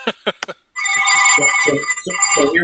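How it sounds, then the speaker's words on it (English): An old-style telephone bell rings in three short, sharp bursts, followed by a loud, sustained ringing tone that continues to the end with slight pulsing. "Sounds like Graham Bell's original phone."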